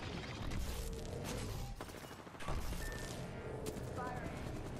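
Gunfire rattles in Apex Legends, with rapid bursts of shots mixed with game effects and a dip partway through, while a player talks over the action.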